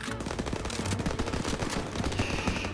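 Browning light machine gun, 7.62 calibre, firing in Call of Duty: rapid sustained bursts of sharp reports in a fast even rhythm, loud and close, with no talk over them.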